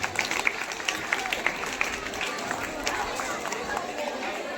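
An audience at a school farewell ceremony honoring teachers claps together, a dense, steady wash of applause with crowd chatter mixed in.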